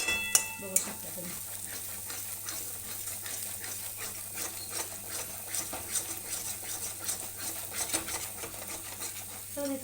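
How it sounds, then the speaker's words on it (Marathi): Masala roasting in a pan during a rustic village-style fish recipe: a steady low sizzle with scraping stir strokes and a few metallic clinks near the start, continuous and close throughout. "मसाला पण छानसा भाजतोय बघा"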